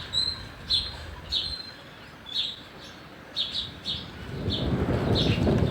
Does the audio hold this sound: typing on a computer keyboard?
no